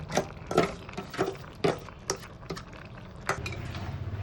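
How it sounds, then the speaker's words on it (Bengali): A spoon scrapes and clanks rhythmically in a pan while shukto is stirred with Amul milk, ghee and sugar, giving about ten sharp metallic knocks over a soft bubbling background. "এবার গুলিয়ে রাখা আমুল দুধ, ঘি আর মিষ্টি সব দিয়ে আবারও ভালো করে মিশিয়ে নেব।"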